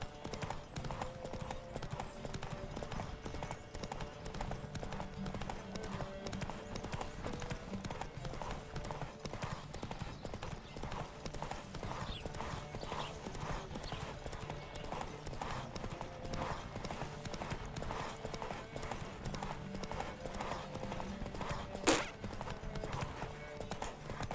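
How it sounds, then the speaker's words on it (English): A horse gallops in The Witcher 3: Wild Hunt, a rapid, even clip-clop of hooves continuing throughout at steady volume, with a brief sharp effect near the end and no speech. "El vigor del caballo se gasta rápido, ¿eh?"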